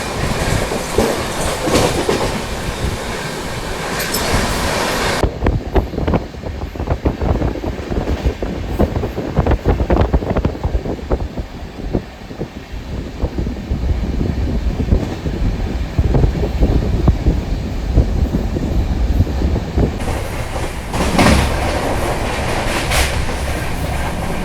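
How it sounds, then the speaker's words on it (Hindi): Samarsata Express running at speed between Raipur and Durg, a loud, continuous rumble with rhythmic clickety-clack of wheels on rail joints and wind rushing past, heard from on board. "ट्रेन अपनी मस्त रफ्तार में चल रही है।"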